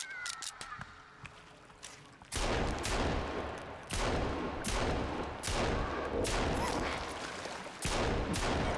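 Gunfire in Sons of the Forest, a sharp shot followed by a run of loud, evenly spaced rapid shots, each one cracking close and booming.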